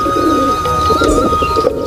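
Close, loud pigeon cooing, a soft warbling throaty call repeating in low pulses with no talking.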